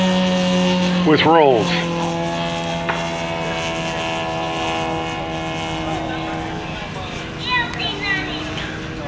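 A 50% scale Christian Eagle model plane flies aerobatic manoeuvres, its engine drone rising and falling with sweeping pitch glides as it rolls and loops, steady throughout with a voice talking over it.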